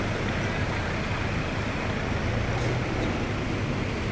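Floodwater surges through Naujan, a constant broadband rushing roar that stays steady and loud from start to finish with no talk over it.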